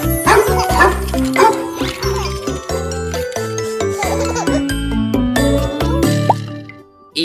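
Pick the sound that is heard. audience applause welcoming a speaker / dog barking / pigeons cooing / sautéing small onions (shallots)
dog barking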